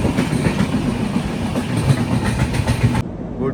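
Passenger train on the Konkan route rolling along with steady clickety-clack of wagons over rail joints, loud and close, cutting to a quieter hush near the end.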